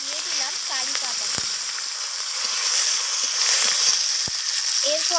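Bay leaf, dried chili and curry leaves sizzle steadily in hot oil for a Bengali chicken dish, a bright continuous hiss with occasional pops and faint stirring, no talking.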